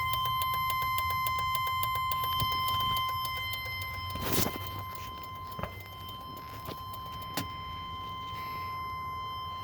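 A faulty turn signal flasher relay on a 1995 Chevrolet Silverado ticks rapidly and steadily, a fast run of clicks over a low idling hum inside the cab. A few louder pops stand out along the way.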